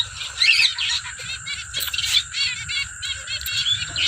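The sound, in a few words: pet breeder finches chirping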